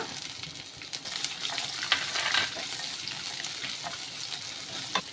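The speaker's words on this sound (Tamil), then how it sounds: "நல்ல எண்ணெயிலே ஃப்ரை பண்ணி விட்டுக்கோங்க கேப்சிகம் கொஞ்சம் ஆட் பண்ணிக்கோங்க" Green peas and capsicum frying in oil for cucumber rice, a close, fairly quiet continuous sizzle with occasional stirring clicks from a spoon against the pan, no talking.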